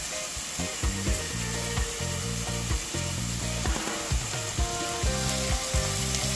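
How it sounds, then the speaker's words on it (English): Seasoning sautés in a pot for Jamaican corned beef, a steady loud sizzle broken by repeated rhythmic scraping and clacking of stirring against the pot. "I'm going to allow my season to saute for probably like about 3 minutes"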